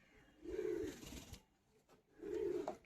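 A pair of Madrasi pigeons for sale gives two low, rolling coo phrases, near and moderately loud, separated by a brief pause with faint background noise.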